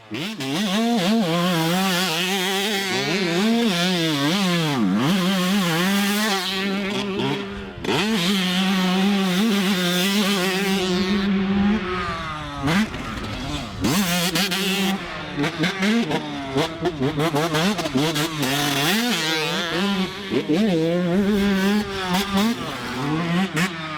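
A 2020 Pro Circuit Yamaha YZ125 two-stroke dirt bike engine revving hard and loud up close, repeated rising and falling throttle blips with brief drops between bursts, sustained for over twenty seconds.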